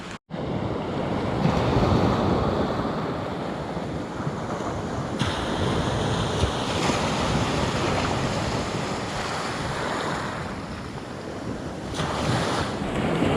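Ocean waves wash steadily onto a shallow Alaskan beach at night as the tide comes in, a continuous broad surf roar with wind buffeting the microphone, loud and close with no voices.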